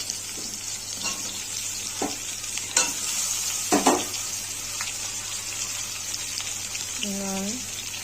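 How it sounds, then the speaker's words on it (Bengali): Potatoes with onion and capsicum fry in a pan with a steady sizzle, broken by several scraping stirs and clanks against the pan, plus a faint voice near the end. "দিয়ে এবার আমি আলুটাকে ভালো করে ভেজে নেব"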